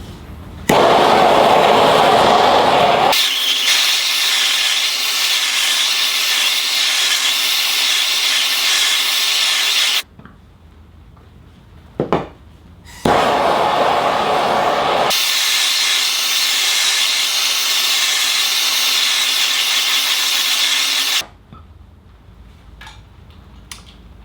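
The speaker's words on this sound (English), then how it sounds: "we're going to blowtorch it to represent searing or cooking at high temperature" A blowtorch sears a steak: two long, loud roaring hiss bursts of several seconds each, separated by short quiet gaps, close and with no one talking over them.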